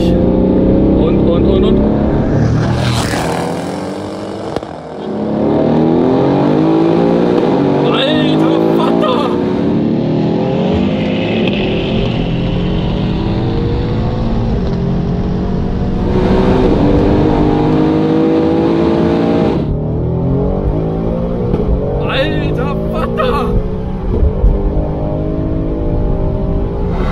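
A GAD Motors tuned Mercedes C63 W205 with 4Matic+ roars loudly through the gears, engine note climbing and dropping with each shift, heard from inside over continuous talk.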